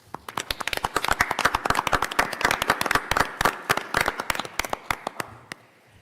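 A crowd applauds at a school board meeting, a dense run of hand claps building and then thinning out toward the end, heard alone without speech.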